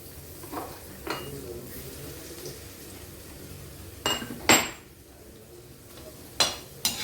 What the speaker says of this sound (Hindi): लाइट ब्राउन हमें इसको भून लेना है।